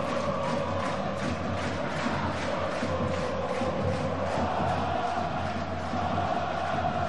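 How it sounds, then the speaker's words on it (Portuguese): Palmeiras football supporters fill a stadium with a steady, loud crowd roar during a 2015 Campeonato Paulista match against Red Bull Brasil, a dense, continuous wash of chanting voices with no breaks. "Tá vindo aí a torcida do Palmeiras."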